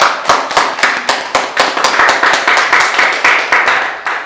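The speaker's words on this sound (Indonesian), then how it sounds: "Kita beri aplaus sekali lagi untuk teman-teman." An audience at an indoor training session applauds, with dense, close, loud hand clapping in a steady rhythm that carries through to the end.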